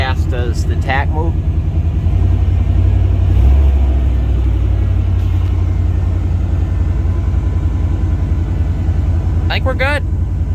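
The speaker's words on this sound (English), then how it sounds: "If I give it a little bit of gas, does the tack move?" A 1990 Chevy K1500 pickup engine runs steadily with a brief light throttle blip, a loud, close low rumble sustained throughout, with short bursts of talk at the start and end.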